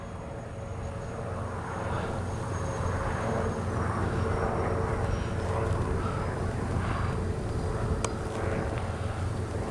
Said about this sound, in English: it's such an easy flying A-10